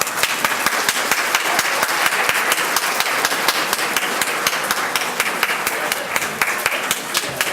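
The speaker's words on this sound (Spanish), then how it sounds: "les pido recibamos con un fuerte aplauso a los y las integrantes del presidio" Audience applause for a conference panel at a justice tribunal event in Mexico City, a steady, dense clapping from a large crowd that holds without a break throughout.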